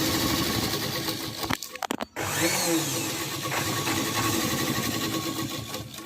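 Sewing machine stitching a petticoat, a loud rapid mechanical whir that runs continuously, pauses briefly with a couple of clicks, then resumes steady and close without any voices.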